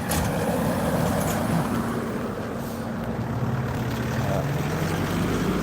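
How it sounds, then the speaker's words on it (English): Cars passing along a roadside, a steady loud rumble of engines and tyres that swells and holds across the whole stretch, with no voices over it. "I'll wait for these cars to pass because they're going to be very noisy."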